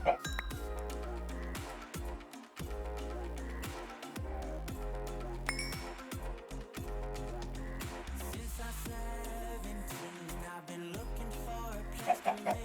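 Chickens in Minecraft with the FTB Ultimate modpack cluck repeatedly in short, irregular bursts, fairly close and mixed with clinking game sounds, with no one speaking over them.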